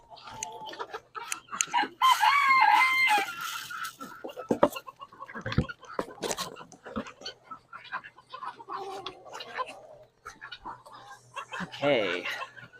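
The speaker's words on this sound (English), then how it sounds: "roosters crow all the time" Roosters crowing and chickens clucking in a barnyard, scattered calls coming and going at moderate distance, with a few bursts of other farm noise.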